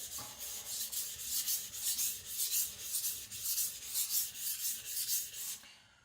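A Sakon Ryuga gyuto knife being sharpened on Naniwa Professional whetstones, giving a soft rhythmic scraping of regular back-and-forth strokes, close and quiet with no speech.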